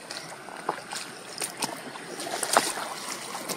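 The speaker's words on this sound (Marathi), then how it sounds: "या अशा पाण्यातून मार्ग काढत ही टीम निघालेली आहे" A news team wades through knee-deep floodwater on a submerged route, sloshing splashes and swishes of water breaking in irregular bursts over a quiet watery background.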